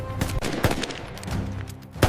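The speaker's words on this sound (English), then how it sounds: "Gunfire tears the valley apart as both sides lock in fury." Bursts of gunfire in a stop-motion battle between plastic army men in a Vietnam War setting, sharp cracks and rattling shots repeating several times over a rumbling background, loud and close.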